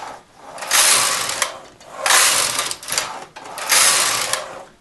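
Knitting machine carriage sliding across the bed with ribber needles up, three long whooshing, clattering passes with short pauses between, close and fairly loud, no talking.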